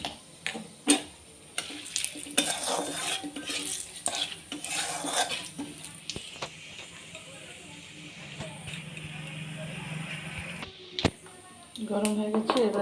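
Bay leaf and dried red chilies tempering in hot oil in a pan, a steady sizzle broken by scraping stirs and clinks of a utensil against the metal, with a voice talking over parts of it.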